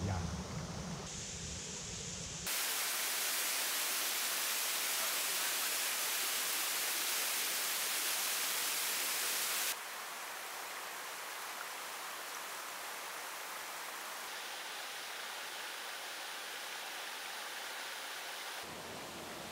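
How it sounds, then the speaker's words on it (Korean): Steady rushing water from a stream flows close by as a continuous broadband wash, shifting in level in a few abrupt steps, with no voices over it. "졸졸졸졸졸 물 흐르는 소리 들으니까"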